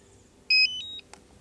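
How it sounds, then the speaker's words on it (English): Two short electronic beeps from a DJI Mini 4 Pro drone controller powering on, the second tone stepping lower, sounding once in a quiet room, followed by a faint click. "To hear that beep sound"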